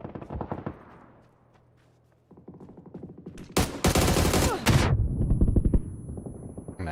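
Gunfire in a PUBG esports match, bursts of rapid automatic shots with a louder, close volley in the middle, then more shooting, no talk.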